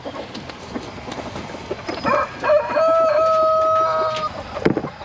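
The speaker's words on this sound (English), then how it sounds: "I'm just gonna let these chickens go out" Chickens cluck nearby, then a rooster lets out one long, loud, clear crow in the middle, with more faint clucking before and after on a farm by a fence line.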